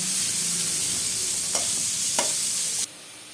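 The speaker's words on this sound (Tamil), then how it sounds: "மறுபடியும் கொஞ்சமாக எண்ணெய் ஊற்றி அதில் சவுக்காய் மட்டும் தனியாக போட்டு வணக்கிக்கோங்க" Chopped chayote sautés alone in a little oil in a pan, giving a loud steady sizzle with a couple of soft stirring scrapes before the hiss suddenly drops away.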